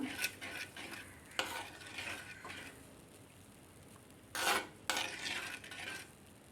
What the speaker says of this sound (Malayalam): ഒന്നുകൂടി ഒന്ന് ഇളക്കി കൊടുക്കാം